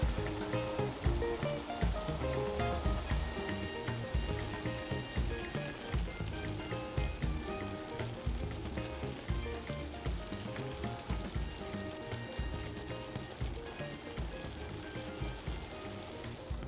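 Tomatoes cook in a pan with sprigs of thyme for a Réunion-style shrimp curry, giving a steady close sizzle and soft bubbling crackle that continues evenly throughout with no talking.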